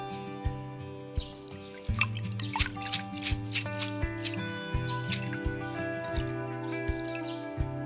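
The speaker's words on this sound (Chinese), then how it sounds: "倒掉泡米水，把糯米清洗干净。" Water drips and splashes as soaking water is drained from glutinous rice and the rice is rinsed. Close, faint liquid plinks and trickles come in an irregular rhythm with no voices.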